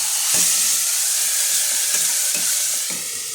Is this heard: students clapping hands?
no